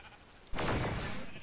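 A sheep bleats in the Minecraft video game, one sudden loud call that holds steady and then slowly fades, with nothing else around it.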